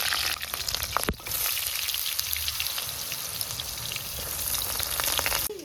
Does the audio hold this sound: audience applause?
no